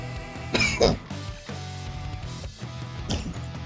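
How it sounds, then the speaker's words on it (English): A single person coughs once, fairly close, a short harsh burst that stands out against quiet room tone, with faint murmuring and soft noise around it. "Sorry, I think I have to cough."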